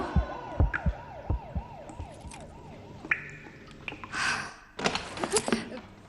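A police-style siren wails with quick, regular rising and falling sweeps over a thumping beat for about three seconds, then cuts to sharp bursts of noise and a gasp-like breath.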